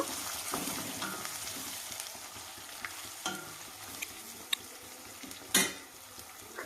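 Chopped tomatoes go into a frying pan for a goat leg curry, giving a soft continuous sizzle with occasional stirring scrapes and a sharp clink of utensil on metal, close up and without speech.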